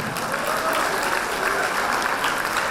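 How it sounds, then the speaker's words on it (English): A dense burst of audience applause rings out at a dental college award event after a dance performance, steady and fairly loud throughout, with faint crowd noise underneath. "So one more round of applause, please, for them."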